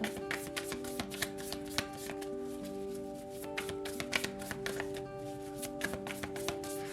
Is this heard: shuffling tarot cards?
yes